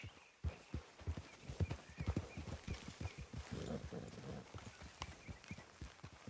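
Horse hooves in Red Dead Redemption 2 strike in a clear, regular clip-clop, close and fairly loud, continuing throughout with light ambient background.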